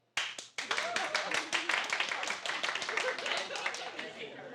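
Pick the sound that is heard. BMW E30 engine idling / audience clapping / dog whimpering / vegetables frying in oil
audience clapping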